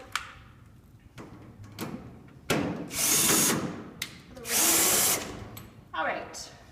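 A power drill drives screws into a unit ventilator motor in several short bursts, the whine rising and stopping between runs, close and loud over faint background noise.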